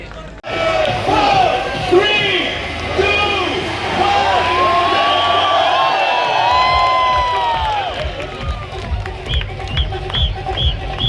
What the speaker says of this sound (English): Can I get a big round of applause for Mr. Devanathan, ladies and gentlemen?